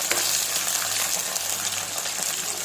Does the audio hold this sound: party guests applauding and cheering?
no